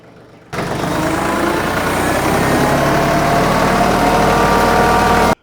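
A TYM 2515H compact tractor with a backhoe starts a steady, close diesel idle after a brief pause and then runs on as an even, rumbling drone.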